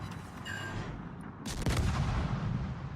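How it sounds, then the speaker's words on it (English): A warship's double and single turrets fire in World of Warships: a low rumbling volley swells, then one sharp, loud broadside blast rings on and slowly fades, with no voices. "you can hear the difference between the double turret and the single turrets"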